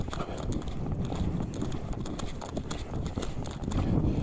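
A reining horse runs a fast circle in an arena, its hooves drumming a quick, steady clip-clop rhythm, moderately faint and continuous throughout.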